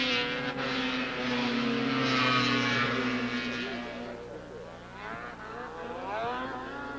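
Modified race cars circle a one-third-mile track, a loud, continuous roar of several engines whose pitch rises and falls as they pass, with no voices.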